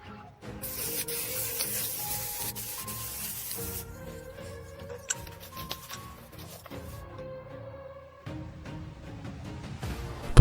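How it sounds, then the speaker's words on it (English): Sandpaper rubbing over rusted iron brackets during a flood-damaged BMW restoration, close and steady with repeated scraping strokes in an uneven rhythm, broken by a few brief knocks and pauses. "Sand them a bit so the paint adheres better."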